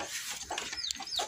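Aseel chickens cluck and chirp nearby while grain is scattered for them, a few short calls and chattering notes over light background noise.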